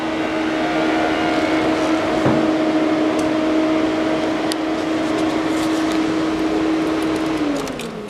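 The electric roof of a Porsche Boxster convertible hums steadily as it moves, a continuous mechanical whine lasting several seconds before winding down, with faint ticks above it.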